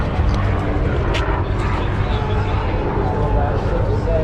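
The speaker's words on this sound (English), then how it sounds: "They got the helicopter out here." A helicopter's steady, loud drone fills the air over a street sideshow police sting in Lakeland, a continuous whirring rumble that stays constant throughout.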